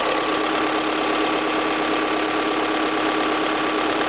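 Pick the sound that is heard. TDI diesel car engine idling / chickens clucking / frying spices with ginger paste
TDI diesel car engine idling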